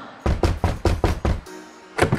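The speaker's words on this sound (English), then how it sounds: "I'll knock." Knocking on a door in the Monkey Island 2 video game: a quick run of six firm, hollow knocks in steady rhythm, a brief pause, then two more knocks, close and clear.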